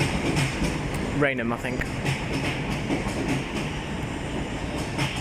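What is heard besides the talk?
Thameslink train moving at London Bridge station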